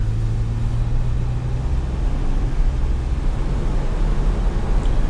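Steady low engine drone and road rumble from a 2022 Ford Bronco Wildtrak 2-door with a 2.7 liter twin-turbo V6 while driving, continuous and even from inside the cabin.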